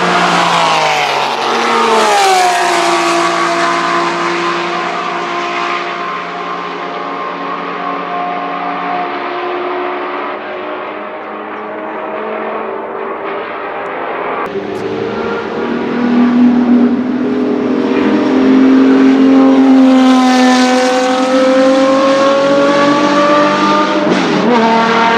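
A Porsche race car engine in the video game Porsche Unleashed, revving loudly and climbing through the gears, its rising whine dropping at shifts and surging again near the end.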